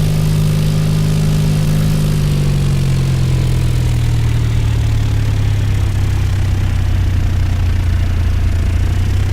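A Cessna 172 piston engine in the X-Plane 10 flight simulator, a loud continuous droning hum at close range whose pitch slowly sinks and settles, with no talking.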